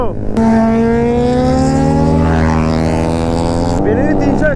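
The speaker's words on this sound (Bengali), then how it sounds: "প্রায় সুপার বাইকের মতো আওয়াজ আসে টু স্টক ইঞ্জিন" A two-stroke motorcycle engine revs loudly close by, a sustained rising buzz held for several seconds before dropping off abruptly, during a Sunday group ride.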